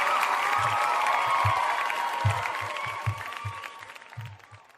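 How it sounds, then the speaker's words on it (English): Brief round of applause from a small podcast audience, a steady dense patter of claps that gradually fades and thins out over several seconds, with a few scattered louder claps near the end. "So we could probably give him a round of applause for that."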